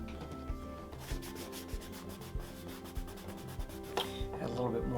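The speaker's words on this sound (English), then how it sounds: "Add a little bit more wax to this lower part as well." Wax is rubbed onto leather Allen Edmonds shoes with quick, rhythmic back-and-forth strokes, a soft brushing friction with small taps, close and quiet.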